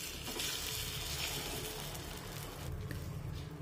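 Egg appe batter sizzles steadily in an oiled appe pan, a continuous close hiss of frying with a faint stirring clatter and no voices.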